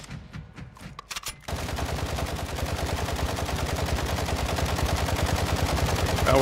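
Gunfire in Call of Duty DMZ, a few scattered shots followed by sustained rapid automatic bursts that grow louder and denser, with no talking.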